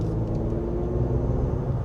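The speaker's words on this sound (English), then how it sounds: "The tune of the engine is also very docile when you want it to be, so it's not very highly strung at all." Porsche Macan Turbo engine while driving on cold, slippery roads, a smooth, steady low rumble heard from inside the cabin, moderately loud with no revving or pauses.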